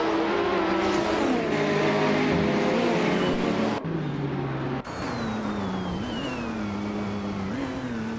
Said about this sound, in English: Davichat is driving a 2017 Porsche